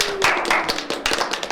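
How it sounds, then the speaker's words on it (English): Scattered clapping from a small audience at a game event, brief sharp taps of hands, fairly close and uneven, with no talk. "Get a round of applause, please."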